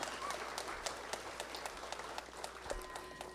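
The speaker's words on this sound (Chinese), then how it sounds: "让我们以热烈的掌声感谢根本传承上师加持同修圆满" Applause at a Buddhist temple ceremony in Seattle, scattered sharp claps trailing off at a moderate distance in a quiet hall.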